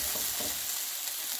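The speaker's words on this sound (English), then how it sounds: "I do have my turkey sausage over there frying up" Turkey sausage frying in a skillet with a dab of extra virgin olive oil, a steady close hiss and sizzle that holds without a break throughout.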